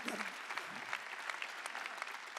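A church congregation claps together through a Christmas Sunday worship service at Jesus Central Church, a steady dense burst of applause with no voices over it.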